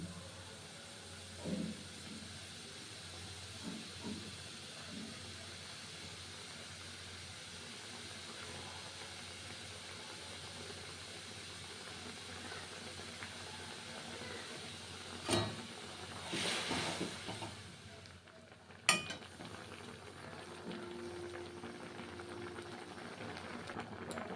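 Water at a rolling boil in a pot for Zuluk-style noodles in East Sikkim, a steady low bubbling hiss running throughout with a few brief clatters and louder bursts near the middle and end.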